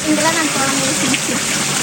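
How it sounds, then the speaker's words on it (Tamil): A small waterfall pours into a swimming pool, giving a steady, close rush of splashing water that runs the whole moment, with a voice faintly present underneath. "இங்க பாருங்க, ஸ்விம்மிங் பூல், சின்ன ஃபால்ஸ்."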